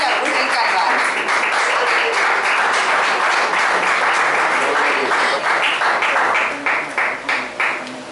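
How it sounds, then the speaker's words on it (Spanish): A church congregation applauds steadily and loudly throughout, the clapping sustained and dense before thinning into a few fading bursts near the end, with a voice faintly present beneath. "fuerte el aplauso al Señor"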